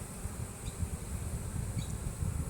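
Honey bees buzzing around an open hive box, a soft, steady low hum of many wings with occasional nearer passes, fairly faint and continuous with no talking.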